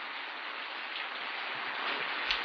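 Steady rain falling, a continuous broadband hiss with soft patter, even and moderately close throughout, no voices.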